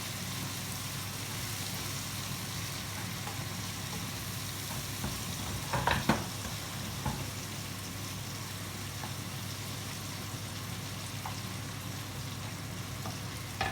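Kokoreç frying in a pan with thyme: a quiet, even sizzle runs throughout, broken by a brief clatter of stirring midway and a few faint scrapes.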